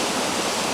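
A steady, dense roar of falling water from a waterfall on the Lost Waterfalls hike near Boquete, Panama, heard close and loud as an unbroken broadband rush with no voices.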